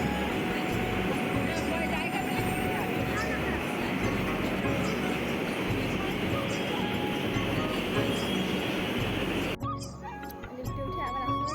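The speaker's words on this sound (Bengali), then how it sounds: "চলে আসলো মেট্রো" A metro train pulls into a station with a loud, steady rumble and roar that fills the space for several seconds before abruptly dropping away near the end; a voice talks briefly over it.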